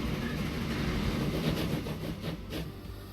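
Consolidation steam locomotive running in the Train Fever video game, a steady rumbling rail noise with faint rhythmic clatter, moderately loud and continuous, no voices.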